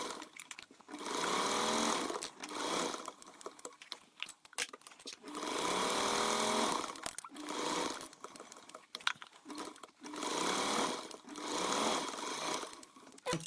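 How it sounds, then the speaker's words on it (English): Sewing machine stitching the two side edges and bottom edge of a multi-compartment scholar's pack with a quarter-inch seam allowance, running in three sustained bursts of steady whirring separated by brief pauses and clicks, close and alone. "we're going to sew the two side edges and the bottom edge with a 1/4 inch"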